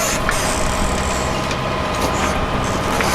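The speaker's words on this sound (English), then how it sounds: "so we put on the motor, as you can hear." A sailboat's motor drones steadily and loudly throughout, a continuous rumbling engine noise with no pauses.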